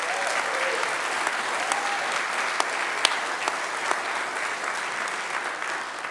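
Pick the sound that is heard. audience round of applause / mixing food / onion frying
audience round of applause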